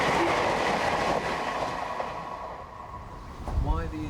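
A train passing close by, a steady broadband rumble of rail transport with rhythmic wheel noise that swells again near the end, with faint squealing tones over it.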